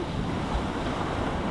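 Sea waves surge and splash against a coastal pillar, a loud continuous wash of surf with strong wind buffeting the microphone throughout.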